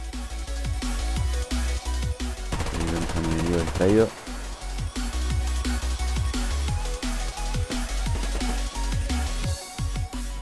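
Rapid bursts of PPSh-41 gunfire in the video game Survarium crackle repeatedly, loud and close, in quick volleys over a busy layer of other game sounds.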